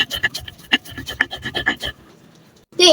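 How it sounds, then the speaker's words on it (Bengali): Small dried shrimp being ground into a paste on a grinding stone, a series of rough, irregular rasping and scraping strokes, close and loud, then a brief pause before another scrape. "তো প্রথমে আমি ইসি মাছটাকে বেটে নেব।"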